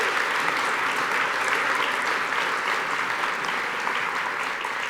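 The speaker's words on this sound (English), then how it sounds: "big round of applause" Steady, sustained applause from a large audience at an alumni awards ceremony, dense clapping holding at an even level throughout without pause.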